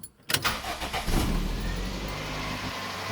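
A car engine cranks after a short silence, catches and starts, then settles into a loud, steady rumble close by.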